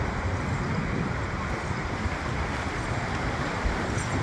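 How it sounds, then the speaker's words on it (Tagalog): Steady, unbroken roar of wind and strong surf crashing on Boracay beach during the habagat monsoon, constant and fairly loud, with no voices. "mahina lang hangin, medyo malakas yung alon"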